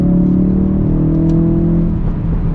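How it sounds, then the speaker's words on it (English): Ford Focus RS pulling hard through the gears, a loud, steady engine drone with rising harmonics and faint crackle from the exhaust, heard close from inside the car. "I love the pops so much out of the back, but you guys can see it has tons of passing power."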